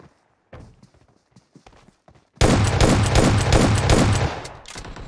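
Dense, loud burst of rapid automatic gunfire in the Free Fire battle-royale game erupts after a few scattered quieter shots and footsteps, sustained for a couple of seconds before tapering off.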